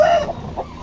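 A hen on a farm gives a short, close cluck or two, brief and fairly loud, with no voices.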